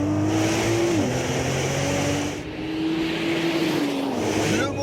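A 2020 Nissan GT-R Nismo engine roars under full acceleration, loud and continuous, its pitch climbing through the gears with brief dips at each shift.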